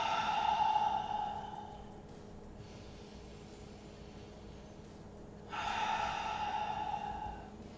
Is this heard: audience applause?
no